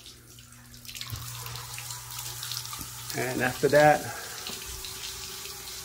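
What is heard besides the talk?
water draining from an old water heater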